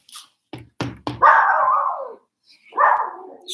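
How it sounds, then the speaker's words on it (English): A dog named Rico barks at a delivery at the front door, giving three sharp barks followed by a drawn-out bark-howl and another after a pause, close and loud, with no talk over it. "He's barking."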